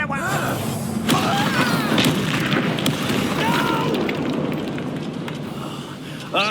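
A Confringo fire spell from the video game Hogwarts Legacy lands with a loud, sharp boom early on, followed by a long, rumbling, crackling burn. Voices talk over the blast and the fading roar.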